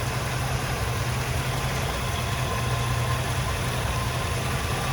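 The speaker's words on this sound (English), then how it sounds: "let's listen to this engine run" A restored 1963 Chevrolet Bel Air with a 327 V8 idles steadily up close, a smooth, even low rumble with a constant hum and no talk over it.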